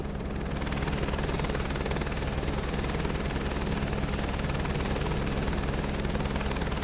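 Aircraft engine drone fills the cabin in Microsoft Flight Simulator 2024, a loud, steady throbbing hum with a fast rhythmic beat that holds unchanged throughout, with no talk.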